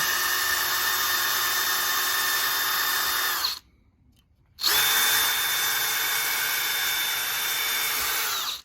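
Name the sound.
drill boring a hole through a sail batten join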